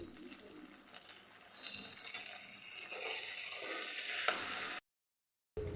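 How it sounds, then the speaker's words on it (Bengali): Schezwan sauce is stirred into a mixture frying in a pan for a Chinese papaya kofta curry, a steady sizzle with scraping stir sounds throughout that cuts out abruptly near the end. "এবার আমি এটা মিক্স করে নেব।"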